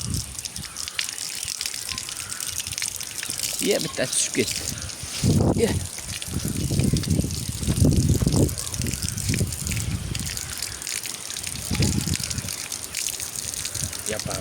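Water runs steadily from a tap while things are washed, a continuous gushing trickle with louder splashing surges, heard under people talking nearby.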